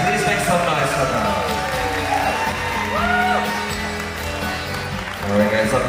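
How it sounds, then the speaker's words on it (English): Crowd of wedding reception guests applauding, whooping and cheering for the newlyweds, a dense, steady roar of clapping and shouts that swells briefly near the end. "huge round of applause for Sagar. And Dharini, guys, please make some noise for them"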